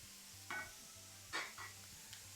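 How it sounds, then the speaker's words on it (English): Flour being stirred into melted butter in a pan for a roux for macaroni cheese. Three or four soft scraping strokes sound over a quiet low hum, faint and close. "And just stir that nice and gently till you form a roux or a nice paste"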